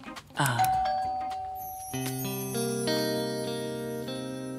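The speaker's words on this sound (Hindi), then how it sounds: "तो बजा दे घंटी।" A doorbell chimes close by, a bright ding-dong whose two tones ring out and slowly decay, following a short rustle at the start.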